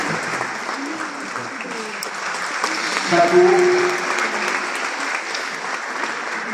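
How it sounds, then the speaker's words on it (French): Sustained applause from a forum audience in Tangier, steady and full throughout, swelling briefly midway, with a voice speaking over the clapping. "Merci de l'applaudir."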